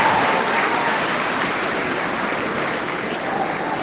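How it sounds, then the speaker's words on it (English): Dense, sustained applause fills a hall at a Baze University convocation ceremony, loud and even from start to finish with no voices above it. "A round of applause again for her."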